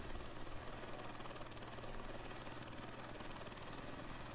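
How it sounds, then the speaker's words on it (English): A helicopter in a flight simulator game gives a steady, even rotor and engine drone that holds at a constant level throughout, quiet and alone. "I actually hate the flight dynamics of this helicopter."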